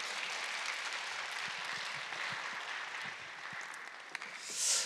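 An audience at a church leaders' forum applauds to welcome a pastor, steady dense clapping throughout that fades slightly near the end.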